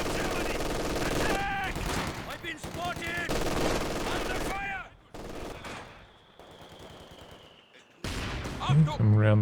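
Machine-gun fire and rapid gunshot bursts from a Company of Heroes 2 battle, with heavy overlapping volleys that pause briefly and then resume, under a voice talking throughout.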